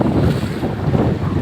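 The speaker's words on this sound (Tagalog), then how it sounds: "Napakalakas ng alon mga idol." Strong sea waves surge and wash loudly and continuously, mixed with heavy wind buffeting the microphone, with no voices.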